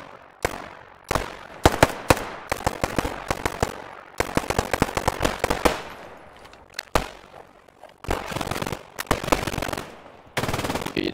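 Rapid automatic gunfire in a military shooter video game, aimed at a watchtower, comes in loud dense bursts with short gaps, some single sharp shots mixed in.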